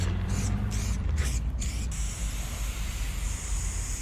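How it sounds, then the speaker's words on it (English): A spray paint can with a fat cap sprays a steady, broad hiss throughout, with brief interrupted bursts at the start, close and fairly loud. "he's using this really fat spray to kind of really heighten the effects"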